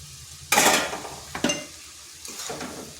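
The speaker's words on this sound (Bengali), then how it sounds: "শাকগুলো ভালোভাবে মিশিয়ে নিচ্ছি।" Drumstick (sojne) leaves being stirred in a hot pan, with three short bursts of sizzling and scraping as a spoon turns the greens, the first the loudest, over a quiet background.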